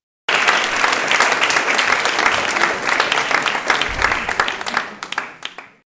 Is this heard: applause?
yes